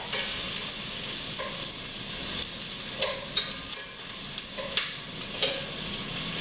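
Onions and garlic softening in a pot, with a continuous loud sizzle and occasional scraping stirs, close up.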